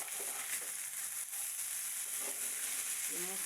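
Karela (bitter gourd) leaf bhaji frying in a pan, a steady hiss of sizzling oil throughout with occasional soft stirring scrapes, close and even.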